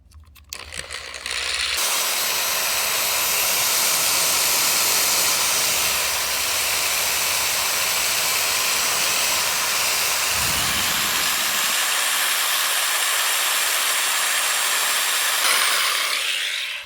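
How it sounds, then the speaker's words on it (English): Power drill running at full power off a Pecron F5000 power station, a loud, steady high-pitched whine and hiss that holds evenly for about fifteen seconds before spinning down, with no talking. "We're going to use this drill, see how much power this pulls"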